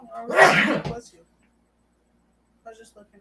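One loud, sharp sneeze bursts out close up, followed by a silent pause and then a few faint voices talking.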